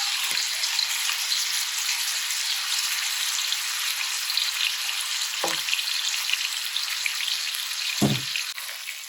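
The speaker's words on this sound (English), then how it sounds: "We're going to add it to the beef to the wok." Beef stir-frying in a hot wok for a ginger beef dish, a steady broadband sizzle throughout with a few sharp spatters or knocks near the end, no talking.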